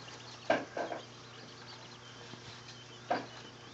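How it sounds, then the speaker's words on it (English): Button quails kept indoors give a few short, sharp calls, two close together early and one more later, over a steady low hum. "And Ruthie will have her flock of button quails"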